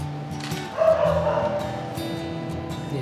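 Dogs give a brief burst of barks and yips, one whining tone rising above the rest, then settle into softer background noise, fairly close and without speech.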